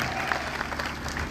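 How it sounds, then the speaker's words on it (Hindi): Rally audience applauding to welcome a guest at a Suheldev Bharatiya Samaj Party political gathering, a dense, steady wash of clapping that fills the whole moment at close range with no talk over it. "जोरदार ताली बजा करके आप स्वागत करिए।"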